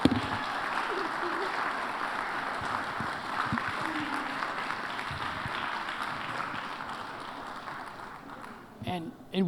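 An audience at the National Civics Bee in the Nixon Library gives the finalists a steady round of applause, with voices talking over the clapping as it fades at the end.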